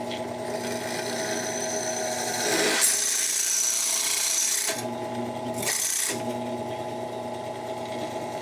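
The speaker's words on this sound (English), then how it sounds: "Even with my crappy 2-year-old worn out drill bit from Walmart, it still cut it very nice and cleanly." A VEVOR 8-inch drill press bores with a worn, warped bit that wobbles, giving a steady close whirring motor hum with a grinding cut, broken by a couple of short pauses as the spindle stops and restarts.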